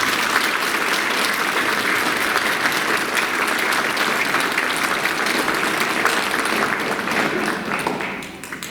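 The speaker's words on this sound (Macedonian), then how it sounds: "И ве молам за еден аплауз за сите нив." Audience applause at a children's folklore ensemble annual concert, loud sustained clapping from a large crowd that continues evenly for several seconds before beginning to fade at the end.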